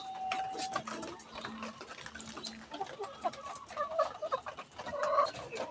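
Backyard chickens cluck and squawk close by in a busy, overlapping chorus, with a few sharper calls standing out over a low background hum.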